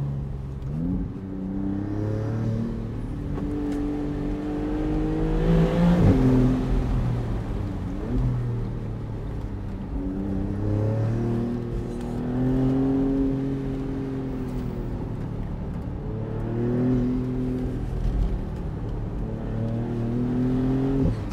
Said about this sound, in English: With the top down, now you really hear the turbo noises.